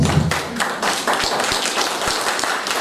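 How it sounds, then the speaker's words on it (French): Audience at an international security and safety conference clapping in a scattered burst of applause, with individual hand claps standing out near the end. "je vais vous demander de les applaudir avant de commencer"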